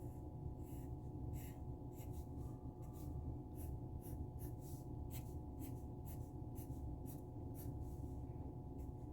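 Pencil or pen drawing buildings on paper with overlapping lines, a steady run of short scratchy strokes over a constant low hum, close and fairly faint, no talking.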